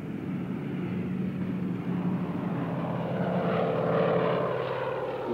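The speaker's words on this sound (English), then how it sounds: "we got into the airplane and took off" A propeller airplane climbs after takeoff, its engine a steady, loud, continuous drone with a rough hum that swells slightly toward the end.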